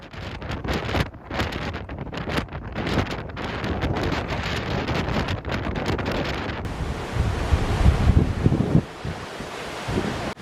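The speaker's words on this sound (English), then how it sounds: "the wind is coming off the Atlantic and inshore" Strong gusty wind off the Atlantic buffets the microphone on coastal cliffs in Ireland in heavy, continuous roaring bursts, with surf-like rushing beneath and no voices.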